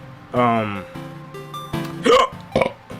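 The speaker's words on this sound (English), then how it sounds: "I just burped, excuse me." A deep, drawn-out burp near the microphone, followed by a few short vocal sounds.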